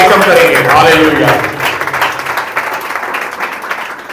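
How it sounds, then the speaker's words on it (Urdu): Loud applause fills a church service as a congregation claps together, a dense wash of many hands under a voice speaking over it that fades a little toward the end. "ہم اپنے اسی انداز میں زوردار تالیوں سے خدا باپ بیٹے روح القدس کو ویلکم کریں گے۔"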